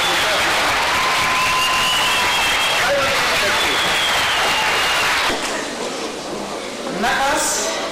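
Applause from an audience at a school graduation ceremony for eleventh-grade students, a sustained roar of clapping that fades near the end while voices speak over it.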